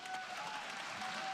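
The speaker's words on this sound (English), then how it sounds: "What are they clapping for?" Faint, distant applause from an audience at a climate speech, a brief, even patter of many hands clapping, heard low and muffled in the background.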